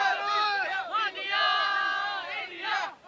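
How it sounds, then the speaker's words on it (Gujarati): Cricket fans in Ahmedabad cheer for an India versus England match, a dense crowd of voices rising in loud, sustained shouting and chanting that swells and dips over three seconds. "ક્રેઝ પણ આપ જોઈ શકો છો કે કઈ રીતે લોકો ચીયરઅપ કરી રહ્યા છે"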